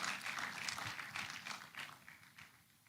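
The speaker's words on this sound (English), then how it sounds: "Can we put our hands together for the representative from Z Realty?" An audience at a corporate event applauds a sponsor representative from a realty company, with a brief, moderately faint burst of clapping that thins out toward the end.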